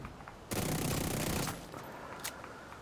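Rapid burst of automatic gunfire from a Vector submachine gun in a shooting video game, a dense roughly one-second volley that cuts off into quieter ambient game noise, with a faint click afterward.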